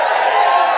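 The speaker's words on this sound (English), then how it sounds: "Give them a massive round of applause there at the back." Dense, loud roar of audience applause and cheering at a late-night comedy show, a steady wash of clapping and voices with no break.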